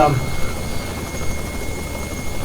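A Robinson R66 turbine helicopter in flight gives a loud, steady rotor and turbine roar with a constant high whine, continuous throughout from inside the aircraft.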